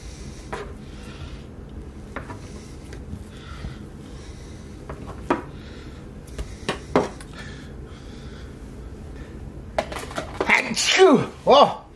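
A person sneezes once, loud and close, near the end, after quiet kitchen clatter and handling sounds while making deep-dish pizza dough.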